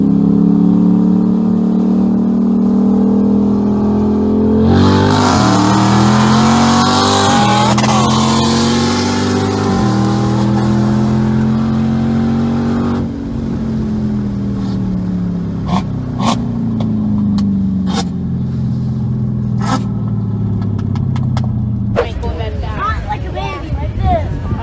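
A Challenger Hellcat and a Corvette accelerate hard in a street race, their engines roaring loudly and rising in pitch through gear changes, followed by a sharp crackling burst near the end.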